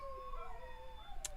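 German Shepherds and a Morkie howl at a passing siren, wavering drawn-out howls with a brief higher yip near the end, moderately close.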